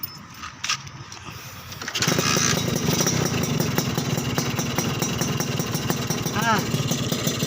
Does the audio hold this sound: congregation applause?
no